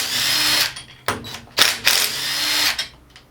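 Power tool, likely an impact driver or drill, removing bolts from a Kohler engine on a John Deere STX38 lawn tractor, running in several loud bursts of whirring and rattling separated by short pauses, with no talking.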